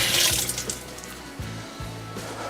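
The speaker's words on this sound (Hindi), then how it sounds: "हाथ धो लेते हैं" Tap water runs in a kitchen as hands are washed mid-recipe, with short splashing bursts and a faint steady stream nearby.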